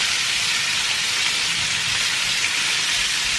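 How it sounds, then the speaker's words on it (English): Pork sizzles steadily in a hot pan while being stir fried for Hokkien noodles, giving a constant close hiss with no talking. "So I just want to stir fry it till it's lightly browned on each side."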